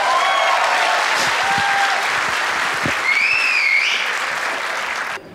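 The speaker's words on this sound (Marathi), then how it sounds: "थँक्स एकदा टाळ्या वाजायच्यात." Applause from a Marathi stand-up comedy crowd, steady and dense for about five seconds before cutting off abruptly, with brief whistles rising over the clapping.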